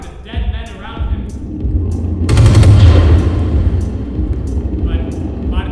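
A burst of automatic weapons fire used as a theatrical sound effect crackles loudly in a dense rattling volley, set among narration and other voices, with rumbling booms beneath the shots.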